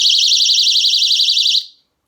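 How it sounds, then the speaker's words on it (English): A panda-shaped personal safety alarm shrieks with a piercing warbling electronic tone, loud and continuous for about a second and a half, then cuts off into silence. "all it takes to activate this alarm is to pull it off"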